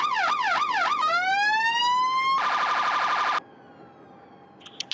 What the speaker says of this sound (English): And here are the sirens.